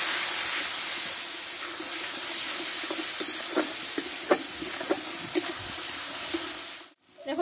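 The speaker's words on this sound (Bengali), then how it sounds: "এই মশলাটা একটু ভালো করে কষে নেব।" A spice paste of Kashmiri chili and turmeric with a splash of water cooks down in oil, a moderate, even sizzle with scattered stirring taps before it drops away near the end.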